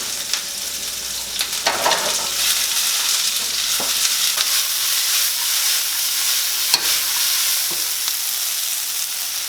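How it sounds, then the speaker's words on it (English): Onions sizzle and crackle in a hot oiled pan for a pizza topping, a steady close frying hiss with occasional sharper pops and stirring scrapes, no talking. "then we're just going to take our onions, break them up, and drop them in"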